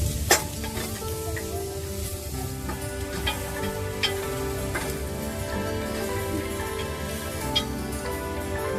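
Cabbage stir-fried in a pan for mushroom fried rice: a constant close sizzle with soft stirring scrapes and a few sharp clicks of a utensil against the pan.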